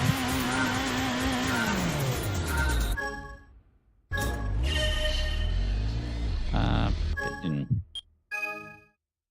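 A race car in Gran Turismo 7 makes a full-throttle launch from the start line, the engine screaming loud and steady, briefly cutting out on a gear change, then roaring again before fading to silence.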